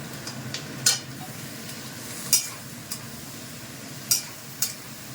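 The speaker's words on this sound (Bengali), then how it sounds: "এবার আরেক একটু ভেজে নেবো" Capsicum and onion sizzle quietly in a pan under a steady hiss, with a few sharp clicks of a spatula stirring at intervals.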